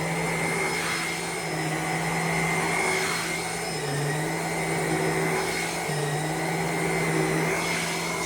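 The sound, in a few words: Uwant mattress vacuum cleaner running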